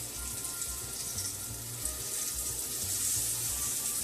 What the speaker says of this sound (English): I'm going to just lay that chicken down in the pan